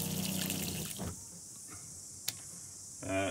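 A tap in a 2007 Jayco Swan caravan runs from a 12 volt water pump, giving a steady close hiss of flowing water that cuts back partway through before surging again at the end.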